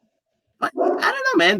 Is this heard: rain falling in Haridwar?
no